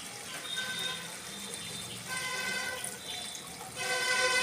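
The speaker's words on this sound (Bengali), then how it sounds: "অল্প করে জল দিলাম।" Water poured from a vessel into a pan of paneer with red capsicum, a soft splashing gush in short bursts with brief pauses, close and moderately quiet.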